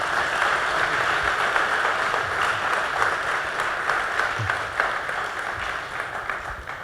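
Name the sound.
audience applause for Sergeant Lynch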